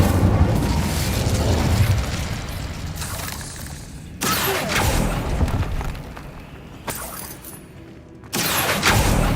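Incendio fire spell in Hogwarts Legacy: loud roaring bursts of flame in several surges, each ending abruptly, with booming crackle between cuts.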